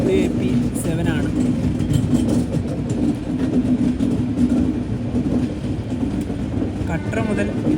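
Passenger train hauled by a WAP7 electric locomotive rolls on past Renigunta station through a big curve, a steady loud low rumble with rail noise throughout, voices talking over it.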